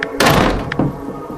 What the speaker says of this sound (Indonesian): tiba-tiba ia mendengar suara pintu terbanting cukup keras